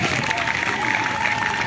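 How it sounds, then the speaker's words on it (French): A crowd applauds a chief at a village ceremony in Zikisso, producing a steady, dense wash of clapping with voices mixed in throughout. "Il faut applaudir fortement le chef."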